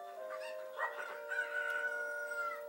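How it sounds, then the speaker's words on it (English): Chickens cluck and crow in a video game, a steady run of tonal, squawking calls over a continuous droning background, with no voices. "I don't know how long I'm gonna last against these stupid chickens"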